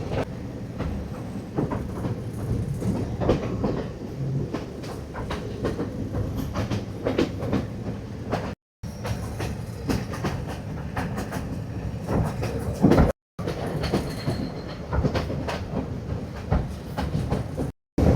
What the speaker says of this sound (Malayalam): തേയിലത്തോട്ടങ്ങളുടെ നടുവിലൂടെയൊക്കെ ഇടയ്ക്ക് ഒരു ട്രെയിൻ കയറുന്നുണ്ട് കേട്ടോ